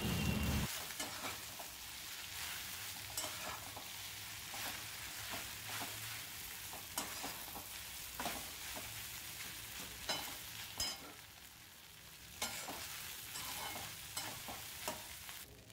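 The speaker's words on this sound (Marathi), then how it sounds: "मस्त इडली फ्राय तयार होतं आहे." Idli pieces fry in a pan with a cumin and mustard seed tempering, giving a steady close sizzle broken by repeated scraping stirs.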